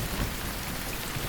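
Dense, steady rain pours down, a loud continuous hiss with a low rumble beneath it.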